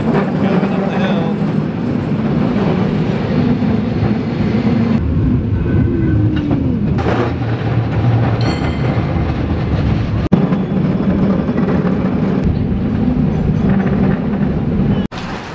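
A San Francisco tram climbs a hill, giving a loud, continuous rumble and rattle with a low mechanical drone, occasional squeals and clanks. A brief knock comes near the end.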